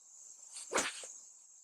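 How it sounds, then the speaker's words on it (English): A single soft thump of a club striking sand, brief and close, with a faint insect-like hiss in the quiet background. "see if you can't hear me thump the sand"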